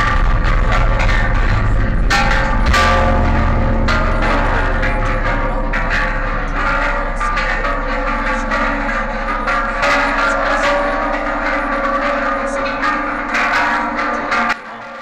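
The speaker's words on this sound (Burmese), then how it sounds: "စပြီးတော့ခေါင်းလောင်းတီးတန်တွေကိုကြားရမှာဖြစ်ပါတယ်" Temple bells struck repeatedly at the Shwe Taung pagoda in Myanmar, ringing metallic hits with lingering hum and reverberation, layered over a low droning tone and ambient crowd noise.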